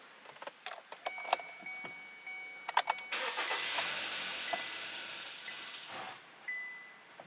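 Car engine cranking and catching, then stalling out, with a broader engine roar building midway and clicks and ticks scattered around it, fairly close and with no voices, during troubleshooting for cam correlation trouble codes.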